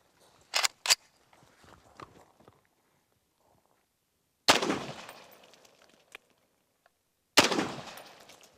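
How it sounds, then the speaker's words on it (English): Three sharp rifle shots from a Socom .308 fired at watermelons, loud and close, each with a decaying outdoor echo, the last two spaced about three seconds apart, plus a couple of faint clicks early on. "So let's go ahead and shoot these watermelons and see what happens."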